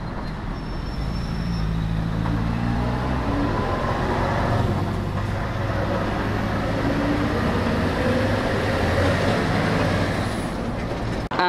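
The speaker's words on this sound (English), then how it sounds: "Today my goal is to record traffic sounds." Continuous road traffic roar with passing vehicles and low engine rumble, steady and fairly loud throughout, no voices.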